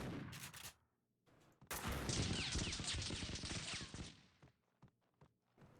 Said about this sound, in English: I hear gunshots, but I don't know if there's somebody shooting at me or him.